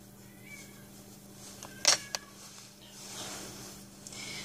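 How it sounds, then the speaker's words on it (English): A single faint meow from a cat somewhere in the room, a short pair of chirpy cries over a quiet background hum. "You can hear my cat in the background."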